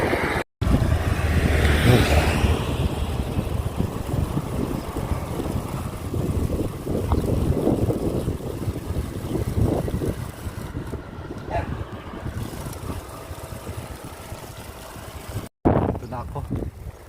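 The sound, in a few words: cold breeze wind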